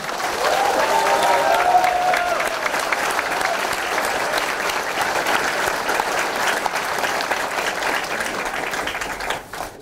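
An audience at a political party founding rally in 2014 breaks into loud, sustained applause, a dense wash of many clapping hands that holds steady for several seconds before tapering off abruptly at the end.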